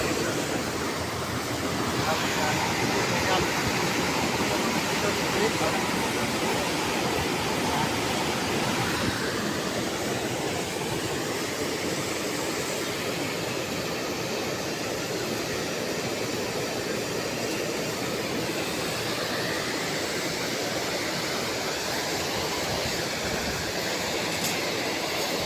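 A vertical cylindrical water pump feeding a drinking water system for a building runs with a loud, steady, broadband roar that holds unchanged throughout.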